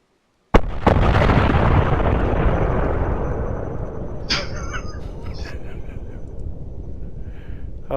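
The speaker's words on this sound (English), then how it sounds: "The bomb explosion." A bomb explosion in a Fantasy Grounds tabletop role-playing session erupts with a sudden loud blast, then rumbles and decays over several seconds, with faint crackles near the end and no talk over it.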